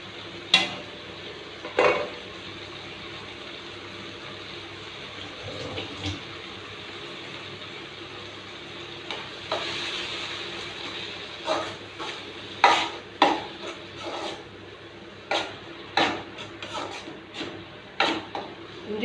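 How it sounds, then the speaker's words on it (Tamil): Ginger garlic paste being sautéed with tomatoes in a pan, heard as a soft, steady sizzle broken by repeated sharp scrapes and clacks of stirring, moderately close, with no talking. "இஞ்சி பூண்டு பச்சை வாசனை போகிற அளவுக்கு வதங்கணும்"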